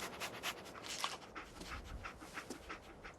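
The dog Dogmeat in Fallout 4 pants in quick, soft, rhythmic breaths with faint sniffing, heard close but at low volume over a quiet background.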